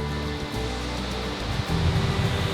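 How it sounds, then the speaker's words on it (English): Steady rushing roar of a waterfall near Stanley, Tasmania, broadband and continuous, growing slightly louder toward the end, with no voices. "is this cool waterfall"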